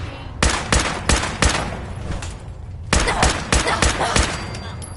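Loud bursts of gunfire from the video game Fallout 4 come in two quick clusters of sharp, closely spaced shots, separated by a short lull.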